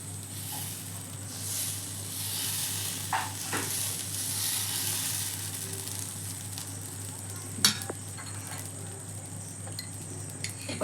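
Dosa batter on a hot nonstick dosa tawa gives a steady, even sizzle with a soft background hiss, joined now and then by light scraping and one sharp clink.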